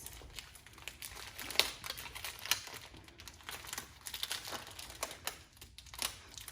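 Rice is poured into a homemade rain stick lined with aluminum foil, giving faint, scattered pattering and soft crinkling ticks close by.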